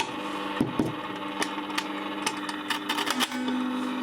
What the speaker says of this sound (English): The motor sounds like it's going much faster